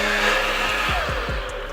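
A blender whirs steadily as it emulsifies hot chicken wing sauce with oil, a loud continuous motor hum with a few lower thumps toward the end as it winds down.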